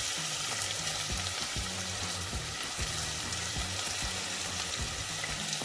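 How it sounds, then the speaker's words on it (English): Onions fry in a pan for a butter bean curry, a steady broadband sizzle with repeated scraping stir strokes throughout, close and fairly loud with no talking. "There you go, onions. Just going to stir it around a bit."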